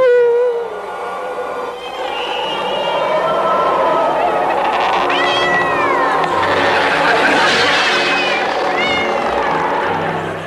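A cat meows several times, with drawn-out wavering cries rising and falling over continuous background voices and sound.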